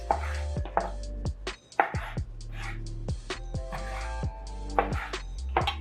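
A knife cuts tomatoes into quarters on a board, with about a dozen crisp, separate chops at an irregular pace over a steady tonal background hum.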